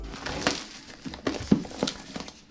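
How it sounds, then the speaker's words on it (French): Packaging for a Cooler Master ML240 water cooler crinkles and rustles as it is unboxed, with scattered close crackles and soft rubs and no talking. "Donc je vais commencer par le déballer, bien sûr."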